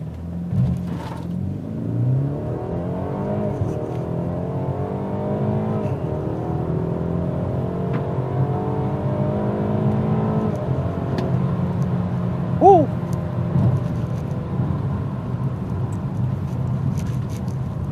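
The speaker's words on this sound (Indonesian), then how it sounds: "digas ke 100-nya lumayan cepet. Memang nggak kenceng-kenceng banget, tapi juga lumayan nyentak." A BMW 330i M Sport engine pulls hard through rising revs, shifting gears in repeated climbs, heard from inside the cabin with a steady road rumble.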